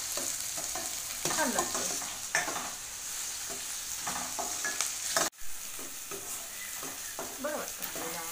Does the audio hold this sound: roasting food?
yes